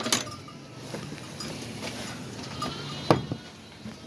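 Sheep and young ewe lambs bleating on a farm, several overlapping calls at moderate distance, with one sharper bleat standing out near the end over low barn noise.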